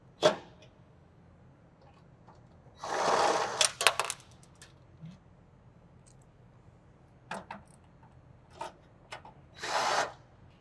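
A power tool tightens fasteners on horizontal louvers during final installation, giving several short whirring bursts at close range with quiet gaps and small metallic clicks and handling sounds between them.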